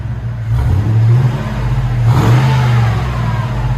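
A deep, throaty 6.0L V8 exhaust on a 2002-2006 Cadillac Escalade, through a big muffler, revs up and settles twice, loud and close, with a muffled rumble between blips.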